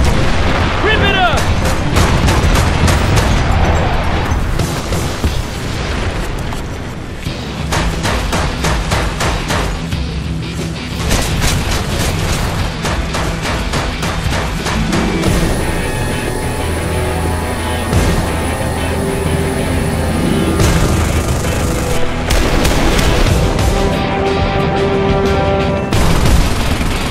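A Bradley fighting vehicle fires rockets and guns in a long barrage of loud booms and rapid bursts of gunfire, with heavy explosions and shouting voices mixed in.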